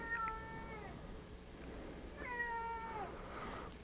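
A cat meows twice, clear and fairly close, with a short pause between the drawn-out calls.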